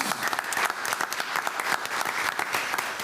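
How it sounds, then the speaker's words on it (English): A short burst of audience applause at a school board meeting, brisk, fairly close clapping from a modest crowd, steady for the full three seconds. "About a round of applause."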